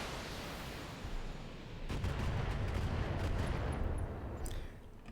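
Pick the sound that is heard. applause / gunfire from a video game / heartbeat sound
gunfire from a video game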